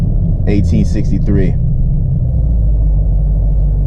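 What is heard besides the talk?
car engine during a downshift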